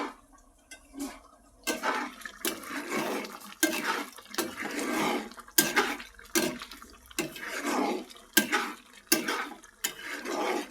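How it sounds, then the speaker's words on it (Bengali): Magur catfish is cooked as a bhuna in a pan, with repeated bursts of stirring, scraping and wet sizzling that come and go in an irregular rhythm, close and fairly loud, with quiet gaps in between. "মাগুর মাছ রান্না করা হচ্ছে।"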